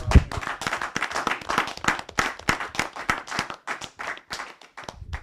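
A church congregation claps together to acclaim the Lord, steady overlapping hand claps rising and falling in a lively rhythm, fairly close and loud, with no one speaking over it.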